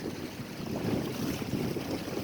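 Wind gusts roar steadily into the microphone aboard a sailboat crossing a bay, a dense, continuous rushing with no voices.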